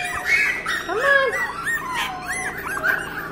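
Small Maltipoo dogs play and whimper close up, trading a quick run of high, rising and falling whines and yips with no other voices.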